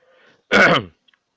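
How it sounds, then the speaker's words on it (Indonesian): A single short, harsh cough, close and loud, after a moment of faint background murmur. "Maaf pemirsa, agak batuk"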